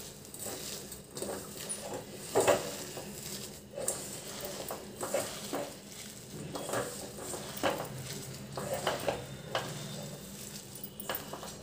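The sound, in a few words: mixing bobbarlu vada batter by hand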